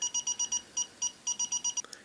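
A Radex ONE Geiger counter sounds its radiation alarm: a rapid series of short, evenly spaced, high-pitched electronic beeps, repeated about a dozen times in two seconds, close and clear.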